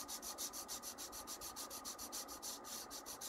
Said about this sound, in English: we're going to sand these things down smooth